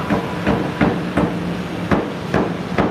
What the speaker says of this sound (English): That's the hammer right there.